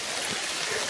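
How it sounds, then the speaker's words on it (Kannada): Heavy monsoon rain falling during a trek in Kodagu, a brief steady close wash of rain hiss with no voices. "ಇಷ್ಟು ಮಳೆ ಹೊಡಿತಿದೆ"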